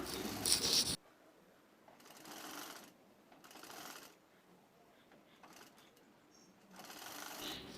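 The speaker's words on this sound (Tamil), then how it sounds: "ரைட் சைடில் கிராஸ் பீஸை வச்சு அப்படியே ஒரு 1/4 இன்ச்சுக்கு ஒரு தையல் போட்டுக்கலாம்." A sewing machine stitches a quarter-inch seam joining a cross piece to a baby frock, running in several short, whirring bursts separated by quiet pauses, the first burst loudest and closest.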